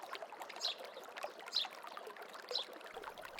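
Slow water trickles over a wall in Morocco's Rif region, a faint, close dribble of irregular drips and small splashes with a quiet background and a brief louder knock at the very end.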